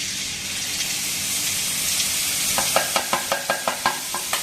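Batter for Madras mixture frying in hot oil, a close steady sizzle with a series of rhythmic taps near the end as more batter is pressed into the oil.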